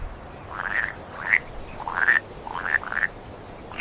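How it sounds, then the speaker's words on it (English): Frogs croaking in a glistening swamp, a series of about six short, rasping calls spaced unevenly, fairly close and clear over a quiet background with no voices. "Frogs and turtles thrived."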